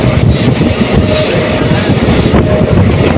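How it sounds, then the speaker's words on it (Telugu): Narasapur Express rolls between Vijayawada and Narasapur through green fields, a loud close rumble of carriages with rattling wheels and faint clicking over the rails, heard from on board. "పచ్చని పొలాల్లో మన ట్రైన్ అయితే ట్రావెల్ చేయబోతుంది"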